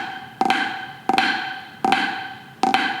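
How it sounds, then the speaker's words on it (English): A snare drum plays four drags whose grace notes are crushed so tightly that they blur into a short buzz before each main stroke. The hits are evenly spaced and crisp, sounding alone. "we also don't want the two grace notes to be super crushed and tight"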